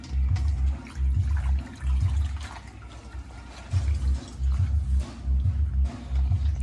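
Kimchi cabbage is rinsed in water, with repeated sloshing and splashing pulses in an even rhythm, fairly loud and close, with no talking.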